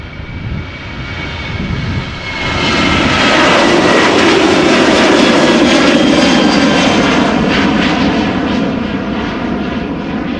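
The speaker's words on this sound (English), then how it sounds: "next up, KLM 737-800, one of the many." A KLM Boeing 737-800 jet at Amsterdam Schiphol Airport swells into a loud, broad engine roar after a quieter start and holds steady as it passes fairly close.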